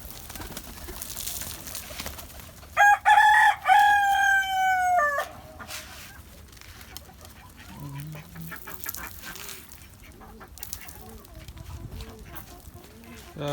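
A rooster crows loudly up close on a rooftop garden, followed by softer clucking and faint bird sounds against quiet background noise.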